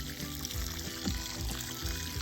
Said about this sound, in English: You water, and you water well for the first time